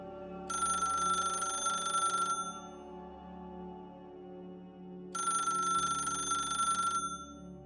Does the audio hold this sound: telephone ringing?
yes